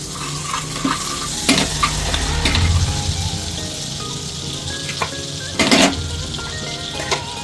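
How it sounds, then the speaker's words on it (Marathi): Butter and oil heat together in a kadai over low flame with a steady, close hiss, and a utensil occasionally scrapes or knocks against the pan. "आता आपण पॅनमध्ये बटर टाकून घेतो कढईमध्ये"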